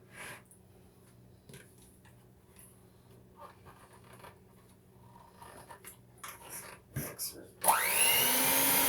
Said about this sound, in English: The new mixer shouldn't be giving you a hard time.